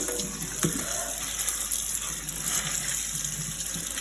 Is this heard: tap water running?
yes